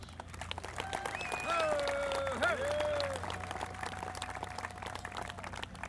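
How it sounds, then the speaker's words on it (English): A stadium crowd at a youth baseball World Series opening ceremony gives a round of applause, steady clapping spread across the stands, with voices and whistles rising over it and fading toward the end. "please a big round of applause."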